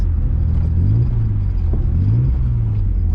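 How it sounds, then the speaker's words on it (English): A car engine idles with a deep rumble and revs up twice, the pitch rising and falling, close and steady. "I love just revving it because it sounds so good"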